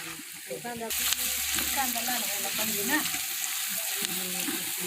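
Coconut paste and gram flour frying in a pan over a wood-fired stove, sizzling steadily and close while someone talks over it throughout.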